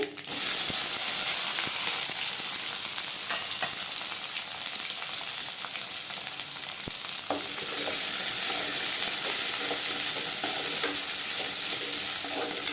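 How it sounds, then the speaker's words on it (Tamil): Onions, curry leaves and dried red chillies fry in hot oil for a pumpkin poriyal, a dense, loud, continuous hiss and sizzle with faint stirring clicks, no voices. "வெங்காயம் நல்லா வதங்கட்டுங்க"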